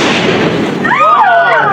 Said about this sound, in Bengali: এরই মধ্যে আকাশ এবং ইভান আতশবাজি প্রস্তুত করছে।